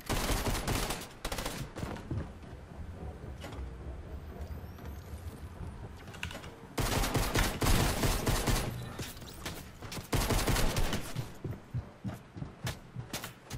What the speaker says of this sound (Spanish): Están disparando, tío.